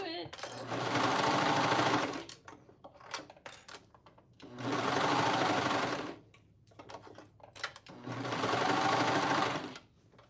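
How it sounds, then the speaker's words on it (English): Sewing machine stitching fabric in three steady bursts of rapid mechanical chatter, each about two seconds long, separated by short quiet pauses with faint handling sounds. "One day you're gonna sew some clothes, Tracy."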